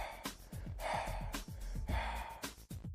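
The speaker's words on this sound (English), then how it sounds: "I just want you to take short breaths" Short, sharp exhaled breaths repeat in a steady rhythm during an abdominal exercise, about a dozen quick bursts that are close and fairly loud, with no talking.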